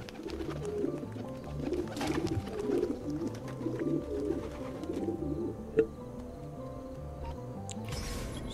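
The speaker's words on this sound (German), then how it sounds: "Das ist die nächste Taube." Pigeons coo in Assassin's Creed II, a low rhythmic burbling repeated steadily throughout against quiet game ambience, with a brief sharp tap near the end.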